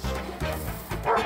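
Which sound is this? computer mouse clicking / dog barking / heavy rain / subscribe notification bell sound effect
dog barking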